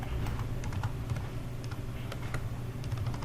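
Rapid keystrokes on a computer keyboard, a steady run of close, crisp clicks over a constant low hum, with no talking.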